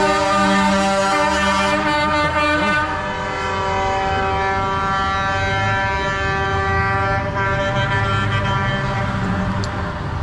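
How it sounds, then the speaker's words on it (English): Tow trucks sound long, sustained, overlapping horn blasts that hold loud and steady throughout as the vehicles drive by, with no talk over them. "tow trucks honking their horns and driving by"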